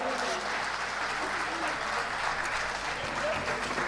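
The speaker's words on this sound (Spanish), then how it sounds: "Muchas gracias por esos aplausos." A crowd applauds continuously at an album launch event, steady dense clapping filling the room from start to finish.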